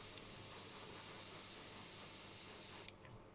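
A hair dryer blows a steady, loud broadband hiss close by for about three seconds, then cuts off abruptly, leaving a quieter room tone.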